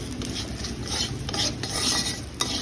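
A spoon stirs cumin, onion, dried chili and bay leaf in a pan of hot oil, giving soft scraping and a faint sizzle, close and quiet, with no talking.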